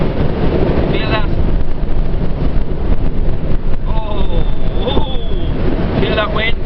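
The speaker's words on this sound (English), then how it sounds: "That's blowing against the trailer. And you can see that that's storm force wind there now." Storm-force wind gusting against a caravan trailer on a road trip through Europe: a constant loud roar and buffeting rumble filling the whole clip, with faint whistling tones rising and falling on top.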